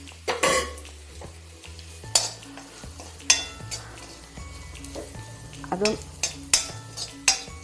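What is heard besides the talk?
mushroom curry masala with chili powder sautéing in pan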